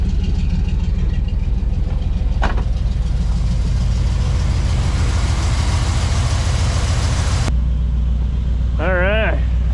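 A cold car engine running just after a choke start on a snowy day, a rough, steady low idle throughout with people talking over it, and the sound abruptly changes character near the end.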